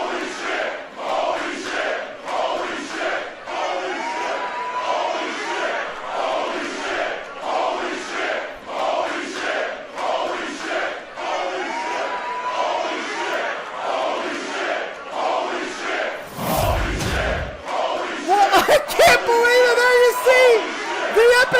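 Video game wrestling arena crowd at an NXT Takeover show at Full Sail University, roaring and chanting in a loud, steady rhythmic wave for nearly the whole stretch, with a brief dip and some sharper bursts and tones near the end.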